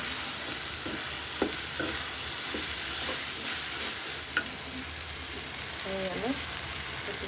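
Taro leaves and shrimp frying in a pan, with a continuous close sizzle and occasional utensil taps and scrapes as the mixture is stirred, plus a brief faint voice-like sound near the end.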